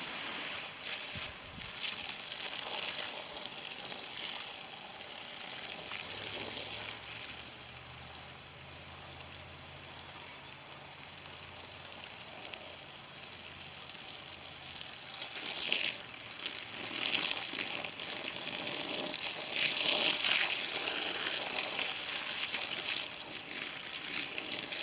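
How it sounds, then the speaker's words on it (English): Water pours and splashes onto potato plants in a garden, a steady, soft hissing wash that swells louder toward the end, with outdoor ambience around it. "Here we go, watering the plants, watering the potatoes."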